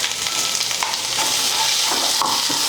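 Ground masala stirred into hot tempering for mint rice, a loud continuous sizzle with scraping stirs of the spoon against the pan, close and unbroken.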